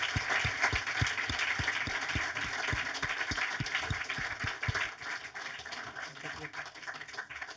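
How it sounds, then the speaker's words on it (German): Audience applause welcoming director Sönke Wortmann to a film talk, a dense, sustained wash of clapping from a crowd with a few distinct nearby claps, steady throughout, with a voice faintly beneath. "Großen Applaus"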